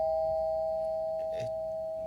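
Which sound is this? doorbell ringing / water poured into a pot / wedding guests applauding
doorbell ringing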